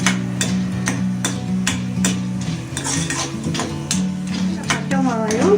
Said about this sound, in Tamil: வரமிளகாய் வறுத்துக்கணும்.